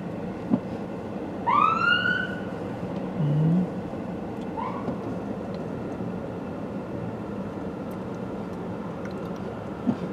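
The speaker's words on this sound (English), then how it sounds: "Ambulance coming, Dolly." An ambulance siren wails briefly in the distance in Tonbridge, rising and falling once or twice over steady street and traffic noise heard from a car, then fades.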